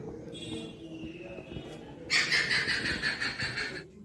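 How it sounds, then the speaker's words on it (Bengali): A bird calls oddly outdoors in the morning, a fast loud trilling burst in the second half after fainter whistling tones, with low background rumble. "কেমন অদ্ভুত ডাকছে দেখুন এই পাখিটা"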